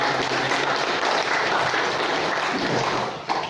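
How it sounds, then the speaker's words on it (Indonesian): An audience in an Indonesian village claps for the village officials at a gathering about home renovations, a dense, steady burst of applause that carries on evenly and then tapers at the end. "Mungkin bisa kasih tepuk tangan buat aparat desa"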